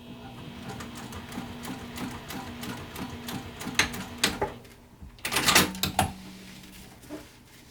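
A sewing machine top stitches along a bag zipper, running in a rapid mechanical chatter punctuated by sharp clicks and a louder clattering burst near the end, heard close with no talking.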